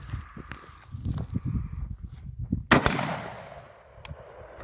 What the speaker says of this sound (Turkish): İlk atışımızı yapıyoruz.